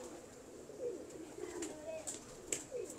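Pigeons at a loft, including Nerooron-type birds, give soft low coos against steady background hiss, with a few faint higher chirps; moderate and close.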